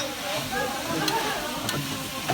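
Onions added to a hot pan give a faint, steady sizzle with a couple of brief clinks, heard up close for a couple of seconds with a voice murmuring faintly in the background.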